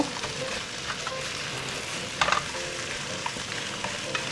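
Vegetables stir-fry over high heat in a pan, a continuous close sizzle with a few brief scraping clatters and no talking.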